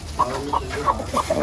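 Chickens eating rice scattered into their pen, giving short repeated clucks at a quick, uneven rhythm, close by over faint background noise.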